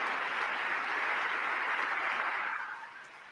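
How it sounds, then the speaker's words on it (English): Applause in a large chamber during an address to Congress, a dense, sustained crowd clapping heard from a distance that holds steady and then tapers off toward the end. "There's a couple Democrats clapping."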